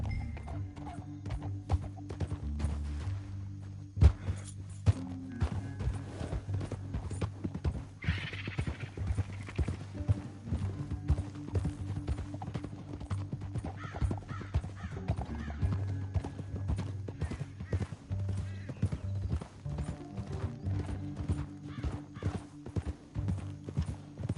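Horse hooves clip-clop steadily in the Red Dead Redemption 2 game world while riding through a canyon, with occasional neighs and whinnies over a low rumbling music bed throughout.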